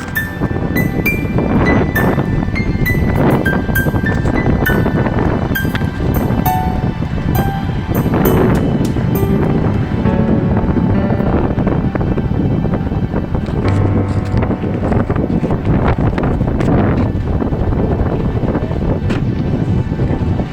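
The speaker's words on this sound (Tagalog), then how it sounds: "Mahangin dito guys." Strong gusting wind buffets the microphone in a continuous loud roar, with faint music or tones briefly audible underneath.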